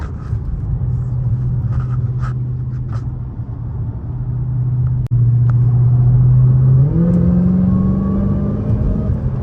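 A 2021 Dodge Charger SRT Hellcat Redeye engine idles with a low steady rumble, then its pitch shifts and rises in a smooth whirring sweep, up close with no talking.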